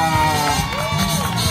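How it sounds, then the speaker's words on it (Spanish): A crowd cheers and whoops as a dancer representing a local family is welcomed onto the stage, loud and continuous with shrill voices, children shouting and a lively hubbub filling the short stretch. "Recibimos, señoras y señores, con un fuerte aplauso a Candy Samira."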